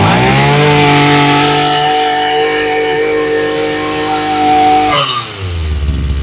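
A used Japanese Mitsubishi lawn mower engine runs loud and steady right after a pull start, its buzzing drone holding for about five seconds before the revs drop and change pitch.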